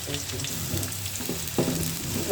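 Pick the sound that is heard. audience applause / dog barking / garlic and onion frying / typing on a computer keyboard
garlic and onion frying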